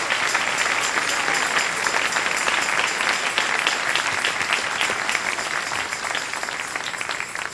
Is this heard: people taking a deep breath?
no